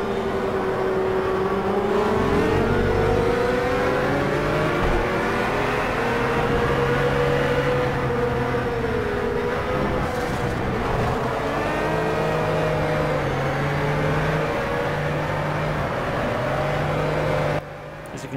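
Racing car engine in the Project Cars video game on the Hockenheim track, a sustained loud whine rising and falling through gear changes and revs, continuous and close with no speech.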